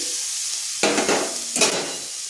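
Grated coconut tipped into a hot wok for a sweet filling, giving two bursts of scraping and sizzling that rise sharply over a low steady hiss and then fade; no one talks.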